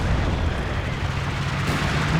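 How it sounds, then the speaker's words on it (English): Dense, continuous rumble of mortar and howitzer barrages in Company of Heroes 2 on the Port of Hamburg map, overlapping booms blending into a roaring wall of noise with no distinct single shots. "All sorts of mortars and Howie coming down over here as well."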